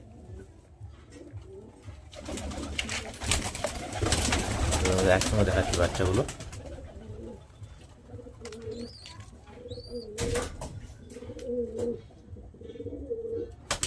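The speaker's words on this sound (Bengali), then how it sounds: "এটা নর পায়রা" Pigeons in a loft, including a male bird, give low, rolling coos that come in repeated bursts in the second half, while a person talks nearby and a louder rustling stretch fills the opening seconds.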